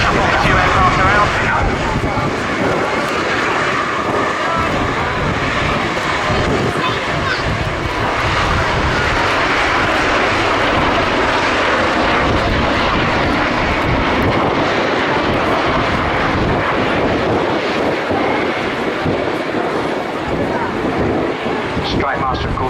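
Aircraft engines drone loudly and continuously at the Cosford Air Show as planes are repositioned, with wind buffeting the microphone and a voice speaking over the roar.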